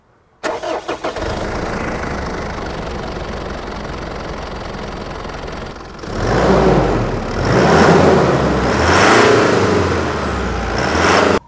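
Mitsubishi Shogun fourth-generation (V80 Montero/Pajero) with a 2.5 litre DID common-rail diesel engine starts up and runs with a steady, close rumble, then rises in pitch and loudness as it revs in the second half. No voices.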